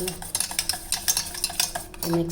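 Quick, rhythmic scraping and clinking of a utensil whisking egg batter with turmeric and pepper in a bowl, a dozen or so light strokes, close and fairly quiet.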